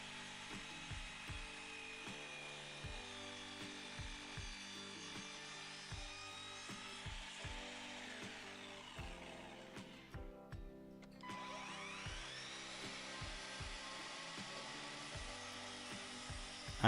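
A Ferrex 20V cordless mitre saw cuts through thick 18mm plywood: a sustained high motor whine with the blade biting through the sheet, a brief dip mid-cut, then the whine continues. Close, loud and without talk.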